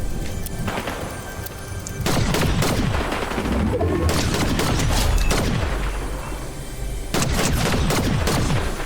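Gunfire in the video game Fortnite, with loud bursts of sharp rapid shots, several volleys close together with brief lulls between them, plus booming impacts, all without talk.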